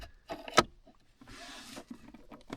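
A Mercedes W203 C-Class gear selector stuck in drive, released through its emergency unlocking mechanism with a screwdriver: one sharp close plastic click, then a short sliding rub and a faint final click.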